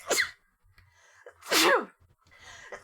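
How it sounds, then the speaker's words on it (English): A single loud, sharp sneeze up close, followed by a quieter second burst and a few soft murmurs. "I sneezed away from the microphone."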